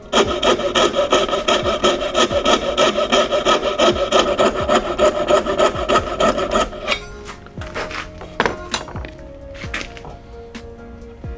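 Rapid, rhythmic rasping of a rasp shaving a wooden hammer handle to fit the head, loud and close, strokes steady at first, then slower scattered scrapes toward the end.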